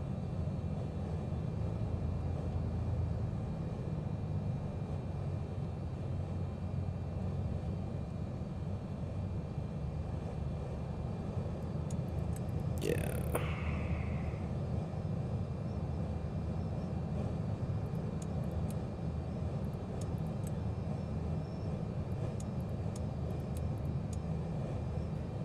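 A simulated airplane taxis at an airport in Microsoft Flight Simulator, its engine a steady, low, even drone held for the whole stretch, with a brief sharp sweep partway through and no talk.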